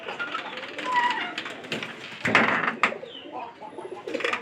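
Soft pigeon coos and bird calls sound nearby alongside rustling and a few knocks, with a low continuous background.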